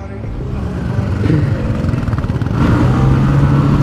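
Several motorcycles, including a Royal Enfield Hunter 350 and a Classic, ride together on a Sunday road run. Engines thump and rev steadily up close, with rising throttle and a fuller roar in the last second.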